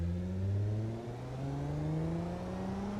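A minivan engine in the BeamNG driving game hums and revs steadily, pitch climbing gradually with a slight dip midway, a smooth continuous drone with no talk.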